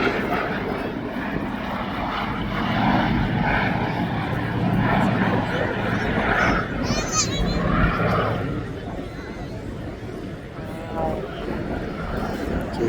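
A Fairey Swordfish Navy biplane drones overhead at an airshow, its propeller engine a steady, rumbling roar that rises and fades a little, under a commentator's voice over loudspeakers.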